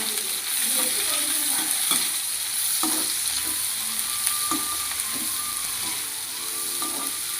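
Green chili, onion, ginger and curry leaves sautéing together in a pan for wheat upma: a continuous close sizzle with a steady run of spatula scrapes and taps, and no talk.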